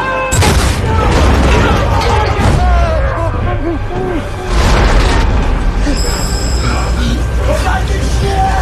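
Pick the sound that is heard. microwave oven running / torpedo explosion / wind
torpedo explosion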